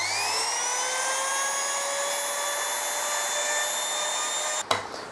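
A router cutting into a veneered hexagonal wooden box gives a loud, steady high-pitched whine with strong harmonics, running on its own before being switched off and winding down near the end.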